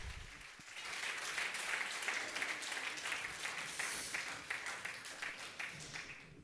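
Audience at a network meeting and programme kick-off applauding, a sustained even patter of many hands clapping at moderate distance, holding steady for several seconds before tapering off, without speech over it.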